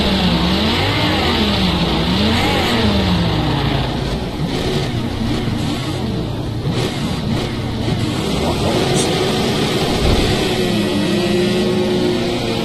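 Several Renault race cars, Megane Trophy and Clio among them, launching hard with wheel spin in a racing game at Catalunya, engines revving and rising in pitch together in a loud continuous roar.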